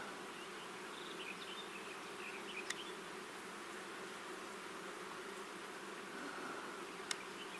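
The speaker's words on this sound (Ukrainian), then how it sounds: "Але бджіл тут більш ніж досить." Bees swarm over blooming acacia in a forest, their steady, soft buzzing filling the air throughout with occasional brief nearer passes, and no talking.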